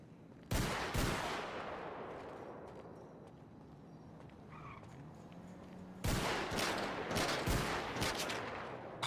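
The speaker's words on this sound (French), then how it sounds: "c'est qui me tire dessus?" Gunfire aimed at the player in a first-person video game, sharp bursts of rapid shots near the start and again in the final seconds, with a quieter rumbling stretch between them.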